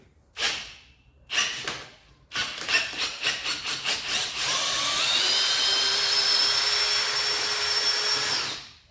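An Ozito 18V brushless hammer drill drives a screw into wood, starting with several short bursts and a quick run of rapid pulses, then a sustained loud whirring drive for about four seconds before it stops.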